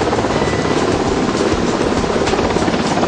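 Navy helicopters pass over the aircraft carrier INS Vikramaditya, a loud, steady rotor roar with a dense rapid chop filling the air throughout, no voices.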